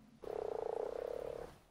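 Beelzebufo frog in ARK: Survival Evolved gives one sustained, pulsing croak of about a second and a quarter, loud and close, with no speech around it.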